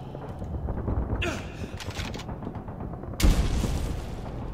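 A grenade goes off in Call of Duty 3, a sharp loud blast near the end that follows a stretch of game noise and faint distant bangs, with its boom trailing off afterward.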